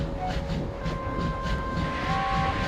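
A steam engine in the Trainz railway game backs down onto its train with a steady, mournful hiss over a continuous low rumble, joined by faint sustained whistle-like tones throughout.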